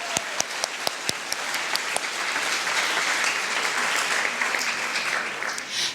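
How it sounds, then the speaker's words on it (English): Audience at a school honor code assembly breaks into steady applause after signatures, opening with a few sharp individual claps that swell into a full, sustained round of clapping before tapering slightly near the end. "a good round of applause to everyone who just signed on behalf of all of you"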